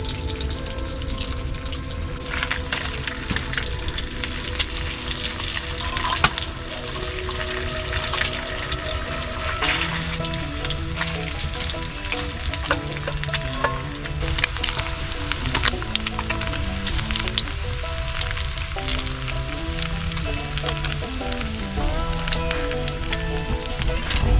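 Batches of Hutterite bacon frying in a pan inside a heated tent while winter camping at -26C, a steady dense crackle and spatter running throughout, close and fairly loud, with faint background music or tones beneath.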